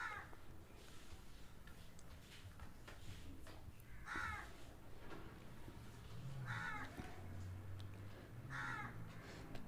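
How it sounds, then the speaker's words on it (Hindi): Crows caw in the background, faint and distant, giving several separate harsh calls spaced a couple of seconds apart over a low, quiet ambient hum. "कौवे की आवाज़ सुनाई दे रही है"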